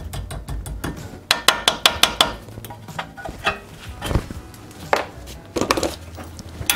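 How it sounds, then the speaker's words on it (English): Sharp metallic clicks and taps from working a cotter pin out of a Jeep Wrangler tie rod, a quick rhythmic series of close knocks followed by scattered scrapes and clinks of tools. "Get this cotter pin out."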